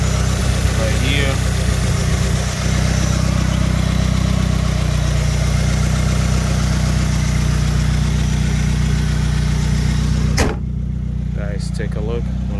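A 2017 Subaru WRX with 70k miles idling steadily, a loud, even low rumble that continues unbroken, with a brief clunk near the end and a voice talking over it.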